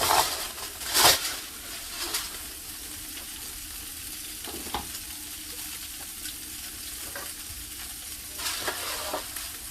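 Pork chops sear in a pan with a steady soft sizzle. Scattered louder scrapes and clatters from handling and stirring break through at a few moments, all close and moderately quiet.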